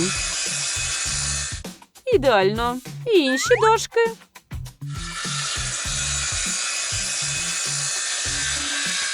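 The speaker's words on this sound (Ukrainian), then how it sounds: "І вмикаю циркулярну пилу." A circular saw whines steadily through wooden boards, pausing while a voice speaks briefly, then resuming its continuous cutting hum.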